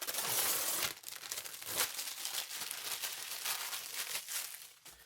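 Plastic wrapper crinkling and tearing as it is pulled off a new Vangoa VGK8600 keyboard, close and crackly, a loud burst at first, then uneven rustles and peeling sounds with no talking.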